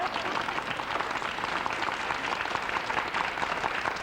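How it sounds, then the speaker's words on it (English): Studio audience claps steadily for a few seconds on an early-1990s Pittsburgh television talk show, a moderate, even wash of applause without speech. "Go ahead, you can applaud her."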